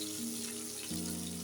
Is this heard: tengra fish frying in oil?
yes